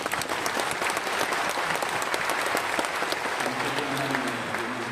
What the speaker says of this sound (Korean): 하나님께 영광의 박수 한번 올려드립니다